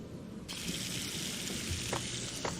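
A sink tap in the Max Payne video game switches on and runs steadily for hand washing, a bright continuous hiss of flowing water with a couple of brief splashy spikes, heard alone.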